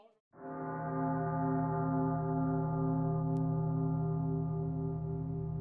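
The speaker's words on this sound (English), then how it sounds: "The bells of Notre-Dame tolled mournfully through the stillness of Velicomet" A single deep bell of Notre-Dame tolls with a sustained, rich humming resonance that rings on steadily and slowly fades, heard alone after a brief quiet start.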